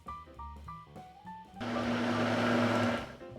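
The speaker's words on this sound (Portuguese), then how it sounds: "Agora eu vou ligar o liquidificador e aos poucos eu vou acrescentar 4 xícaras de chá de farinha de trigo sem fermento." Kitchen blender switched on to mix dough as wheat flour is gradually added, a steady loud whirring motor hum starting partway through after some brief clatter and tones, running continuously to the end.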